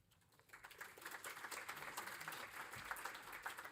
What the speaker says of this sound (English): I need a bigger round of applause